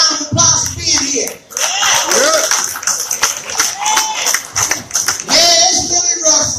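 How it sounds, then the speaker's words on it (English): A crowd at an Ohio Kwanzaa celebration claps in a lively round of applause, with cheers and voices mixed in, heard fairly close and loud alongside someone talking. "Give yourself a round of applause for being here."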